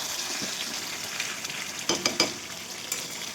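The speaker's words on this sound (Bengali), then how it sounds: "এবার আলুগুলো দিয়ে আমাকে আরো 5 মিনিট ভালো করে কষে নিতে হবে।" Mutton and potato pieces fry in a pan for curry, a steady sizzle under scraping stir strokes, with a few sharper clinks of the spoon against the pan near the end; no one talks.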